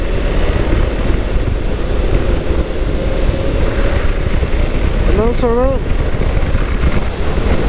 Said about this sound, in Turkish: bayağı rüzgarlı bugün